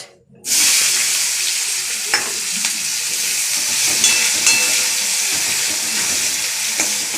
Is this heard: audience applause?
no